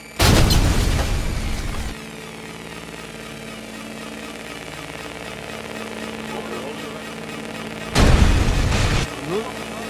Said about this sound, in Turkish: Patlama oldu sanki.